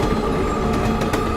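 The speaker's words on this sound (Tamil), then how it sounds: "ட்ரெயின் நிக்கல, ட்ரெயின் நிக்கவே இல்ல" A driverless train running on without stopping, a loud, continuous rumble and clatter of wheels on track filling the whole brief moment.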